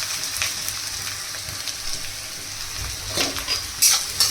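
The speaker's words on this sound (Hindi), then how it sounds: "अब गरम होने के बाद इसमें हम प्याज और हरी मिर्च को डालेंगे" Onion and green chili hit hot oil for a gobhi paratha filling, giving a steady, close, hissing sizzle with faint stirring scrapes and no talking.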